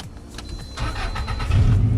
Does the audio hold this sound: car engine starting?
yes